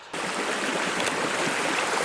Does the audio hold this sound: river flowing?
yes